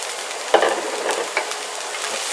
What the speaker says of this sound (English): Go ahead and stir this around for about 2 minutes.